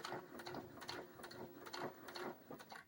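A sewing machine stitches along the edge of a fabric coaster, making a quiet, steady mechanical whirring in rapid, evenly spaced pulses. It is faint and close, with no speech.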